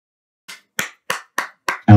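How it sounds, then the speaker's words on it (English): Five sharp hand claps in a steady, quick rhythm, close and loud against silence, cut off by a louder thump at the end. "My dog didn't like that I clapped."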